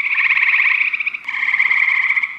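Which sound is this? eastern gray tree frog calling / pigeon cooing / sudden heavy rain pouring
eastern gray tree frog calling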